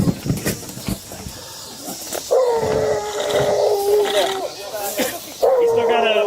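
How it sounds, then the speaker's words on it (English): A police dog barks and whines in sharp, harmonic bursts during a tense domestic call, loud and close, mixed with officers shouting commands over it. "Dog's coming through."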